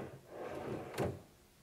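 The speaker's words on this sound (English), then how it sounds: "So now our rollout slides in and out real nicely." A cabinet rollout shelf glides along its slides with a soft rolling rumble, then stops with a short, sharp knock near the end. The sound is close and fairly quiet.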